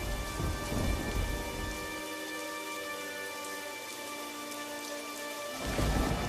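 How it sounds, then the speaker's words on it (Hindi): A heavy thunderstorm: a deep rumble of thunder and dense rain hiss open the scene, ease into a softer rain with a sustained tone for a few seconds, then the thunderous roar swells again at the end. "अचानक से जोर का तूफान आया"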